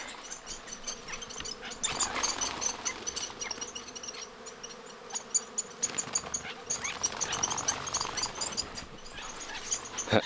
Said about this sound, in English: Man, there's a lot of bees out here.